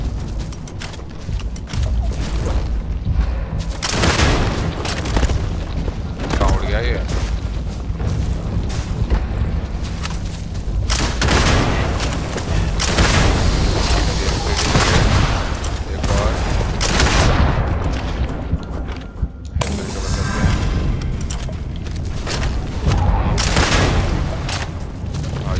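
Dense, loud gunfire fills a Starfield video-game battle, with rapid volleys and booming impacts almost nonstop and a brief lull near the end, while someone speaks Hindi over the noise.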